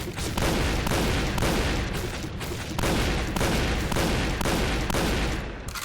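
Rapid automatic gunfire in the online shooter Point Blank, fired in repeated rhythmic bursts of several shots each with short pauses between, loud and close, with no talking.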